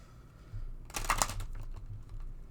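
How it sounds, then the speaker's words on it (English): A deck of oracle cards riffles and flutters together in a quick, close burst lasting about a second, followed by soft shuffling rustles. "I pulled the surrender deck. Shuffling it now."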